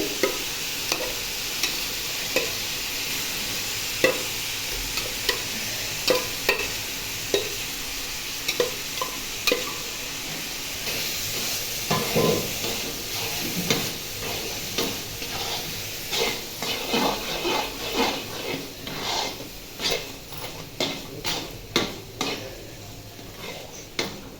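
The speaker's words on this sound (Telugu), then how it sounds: "పోపు వేసుకొని ఇలా కలుపుకున్నాం కదండి" A spoon stirs blended peanut and gongura chutney into a sizzling tempering in a pan. Soft frying hiss runs throughout, broken by repeated scraping and clinking strokes against the metal pan that grow busier toward the end.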